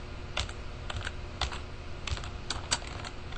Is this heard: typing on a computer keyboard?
yes